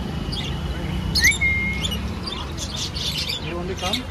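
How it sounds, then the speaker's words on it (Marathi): Small pet birds in a pet shop give sharp, high chirps and short tweets, scattered and irregular, some close and some further off, over a low background murmur of people. "आणि हे क्यूट क्यूटचे पक्षी सुद्धा आहेत."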